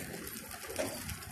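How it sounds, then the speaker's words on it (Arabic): Soft pigeon coos murmur through steady outdoor background noise, low and continuous, with a slightly louder swell near the middle. "يا اخوان في حمام عندنا"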